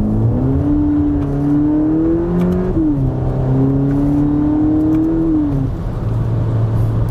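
A VW Polo GTI with a seven-speed dual-clutch gearbox pulls hard under acceleration in sport mode, its engine note rising steadily through two gears with a brief dip at each upshift. The sound is loud and close, with no voices.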